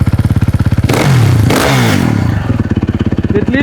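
A GasGas MC450F dirt bike fitted with an Akrapovic exhaust idles with a deep, pulsing thump, then is revved twice in loud, close bursts that rise and fall before settling back to a lumpy idle.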